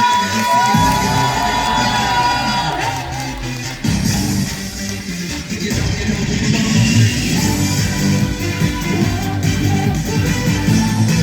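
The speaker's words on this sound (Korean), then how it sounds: "다 같이 더 큰 박수와 함성!" A crowd at a grape festival's opening celebration concert claps and cheers, a loud, sustained mix of applause and shouts rising and falling across the stretch.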